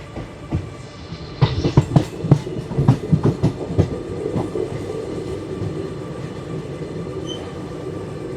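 An express train's wheels clatter in a quick burst of rhythmic clacks over rail joints on a curved track, then settle into a steady rumbling roll nearby.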